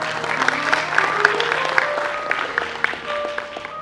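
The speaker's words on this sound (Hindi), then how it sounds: "तो एक बार आपकी तालियां हो जाए" Audience clapping in a school hall during a musical talk show, a steady wash of applause with sharper individual claps throughout, moderately loud and continuous for a few seconds.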